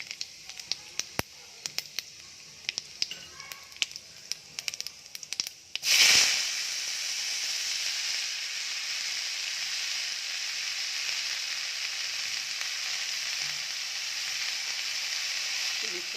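Cumin seeds hit hot oil in a pan for an onion-leaf bhaji. A sharp burst of sizzling comes after a few faint clicks, then settles into a steady, close crackle that carries on to the end.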